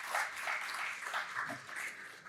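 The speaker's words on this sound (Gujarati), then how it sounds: "આપણે જોરદાર તાળીઓથી આ ક્ષણોને ચિરંજીવી બનાવીએ." Audience applause at an award ceremony honouring a well-known painter, a steady wash of many hands clapping, moderately loud and continuous without pause.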